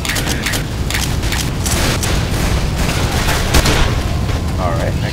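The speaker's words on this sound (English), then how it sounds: "Final shot here." Dense, loud gunfire and booming blasts in Left 4 Dead 2 during a fight against Santa's army, shots overlapping with explosive bursts throughout, with game voices faintly in the mix.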